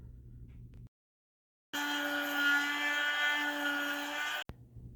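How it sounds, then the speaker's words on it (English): A Dremel rotary tool shaping the front edge of a wooden sunglasses frame runs in a steady high whine for about three seconds, loud and close, starting after a brief silence and cutting off abruptly. "And we'll do that using the Dremel."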